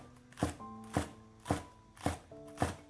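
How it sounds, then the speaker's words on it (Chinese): A knife chops a handful of fresh scallions into small rings on a board: five crisp, evenly spaced strikes about every half second, close and clear over a faint steady tonal background. "一把新鲜的小葱切成葱花"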